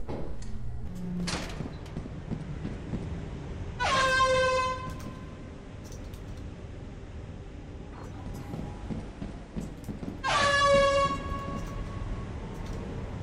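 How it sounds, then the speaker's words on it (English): Two loud, blaring air horn blasts with rich stacked tones, each lasting about a second, over a constant rumbling background in the video game Lethal Company. "Listen for the air horn."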